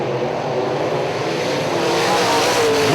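UMP modified race cars roar around Hartford Speedway Park in 2005, a loud continuous engine drone that rises in pitch as a car passes near the end, with no voices.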